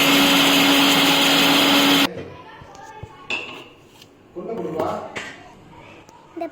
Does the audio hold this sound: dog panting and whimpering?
no